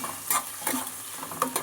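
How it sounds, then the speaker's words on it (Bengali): Potatoes frying in oil for a Bengali fish curry, with a short burst of stirring scrapes and soft sizzling in a few quick pulses, close by and alone. "এইবার আলুগুলোকে আমি দিয়ে দেবো তেলের ওপরে। একটুখানি আলুগুলোকে ভাজা ভাজা করে দেবো সবার প্রথমে"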